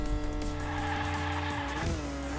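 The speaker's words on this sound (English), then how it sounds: "Let's see if we can drift." A toy car drifts in Hot Wheels Unleashed: a steady droning engine tone with layered pitch runs throughout, and a tire squeal with a pitch sweep comes near the end, close and continuous, with no talking.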